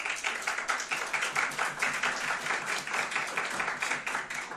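Applause from the audience at a Pasadena city council meeting, a steady wash of many hands clapping heard from a moderate distance, with no one speaking.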